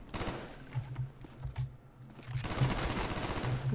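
FAMAS rifle fire in Call of Duty: Black Ops rattles in quick bursts, with rapid repeated shots early, a brief lull, then another sustained volley, loud and close with no talk.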